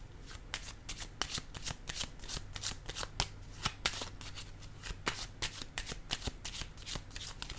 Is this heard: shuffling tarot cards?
yes